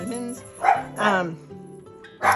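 A dog gives a few short barks, spaced about a second apart, fairly close by, with faint household background between them.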